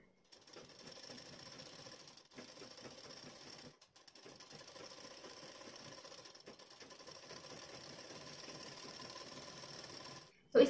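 A sewing machine stitches a blouse neckline in a steady, quiet, whirring run with two brief pauses, then stops with a small clunk at the very end.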